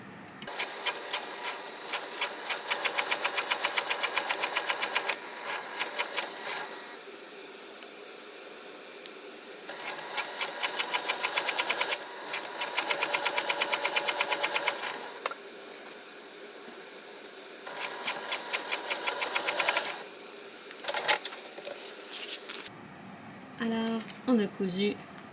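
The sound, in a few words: sewing machine stitching a vinyl boxy bag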